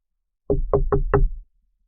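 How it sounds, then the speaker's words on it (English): Four firm knocks on a wooden dojo door in a valley town, evenly spaced and close, alone with no talk. "knocking on the Valley Town Dojo door"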